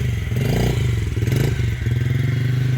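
A child rides a dirt bike near a tree, its small engine loud and close with a steady buzzing drone that rises and dips in surges as the throttle is blipped on and off.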